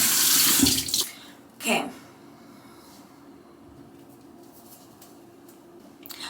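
Tap water runs loudly into a sink while a face mask is rinsed off, a strong gush in the first second and another brief burst near 1.7 seconds, then quiet room tone and a single short spoken word.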